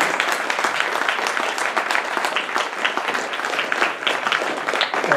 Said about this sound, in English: Une meilleure applaudissement pour Éric Falardeau.